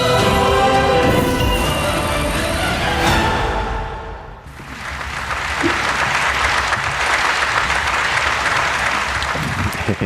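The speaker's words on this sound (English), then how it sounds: "Please give her another big round of applause." Applause from a forum audience for a novelist, starting as the tail of music and then rising into a long, full round of crowd clapping.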